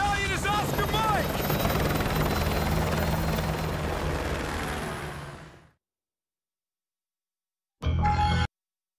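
A military helicopter in Call of Duty Modern Warfare 2 roars loud and close with thumping rotor wash for several seconds, fades to silence, then returns in a short burst, with speech mixed in.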